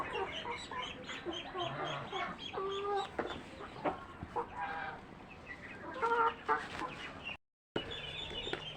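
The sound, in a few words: chickens clucking while eating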